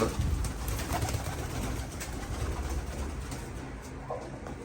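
A crowd of pigeons coos inside a coop in Istanbul, a dense, continuous murmur of overlapping calls over steady background noise, with no talking.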